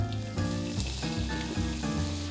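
Plain water hits a hot pan of thick fish pieces and sizzles with a bright, crackling hiss, steady and close, with musical tones running underneath.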